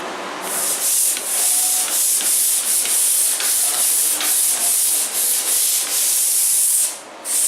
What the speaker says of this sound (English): I've sanded this whole wall several times.